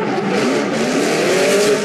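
A Chevrolet Camaro drift car leaving a start chicane in Formula Drift qualifying at Long Beach, its engine roaring at high revs over a continuous loud tire squeal, close and steady throughout.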